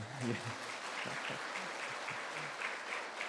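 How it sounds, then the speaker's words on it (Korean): Congregation applauding in a Korean Catholic church in Atlanta during Sunday Mass, a moderate wash of clapping from the room with a voice speaking over it near the start. "박수까지 쳐주시고 감사합니다"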